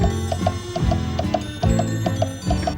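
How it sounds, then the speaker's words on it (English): Several clocks tick in a kitchen, overlapping in a steady rhythmic patter with some deeper clunks, close and clear, with no talk. "8 clocks in Granny Dryden's kitchen."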